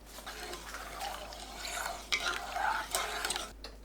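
Soy sauce, vinegar, mirin, cane sugar and water are stirred together in a pot, giving a soft continuous sloshing and scraping swirl of liquid, close and gentle.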